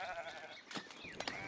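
Sheep bleating in the Foundation medieval city-building game, a few short wavering bleats over a steady background of game ambience and music, moderately loud.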